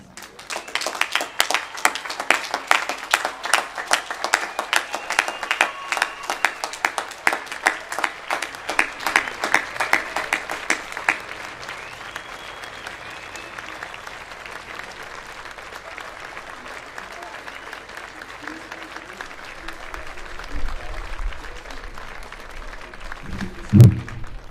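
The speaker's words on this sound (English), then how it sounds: "give them a giant round of applause" A large standing crowd applauds loudly near a pavilion at a memorial gathering, dense clapping for about ten seconds before fading into lighter scattered claps and murmur, with a brief bump near the end.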